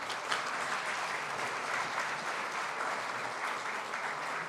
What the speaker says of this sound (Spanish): Recibe el maestro Federico Guzmán Tamayo, a quien le damos un fuerte aplauso, por favor.